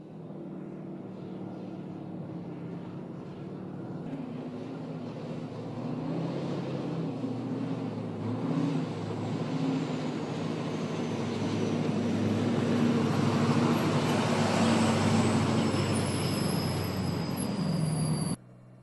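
Oshkosh diesel-electric racing truck running with a steady engine drone and road roar that gradually swells louder, as if approaching, before stopping abruptly; no voices.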